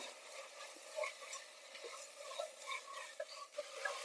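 Tomatoes with rock salt cooking in oil for Vaniyambadi chicken biryani, stirred with a spoon: faint, steady frying hiss with soft repeated scrapes and small clicks, no voices.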